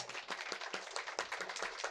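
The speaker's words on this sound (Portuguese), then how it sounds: "Palmas para o Marcelino Frei." Applause for Marcelino Freire at a live literary festival session, a steady dense patter of many hands clapping in a room, moderately near and without talk over it.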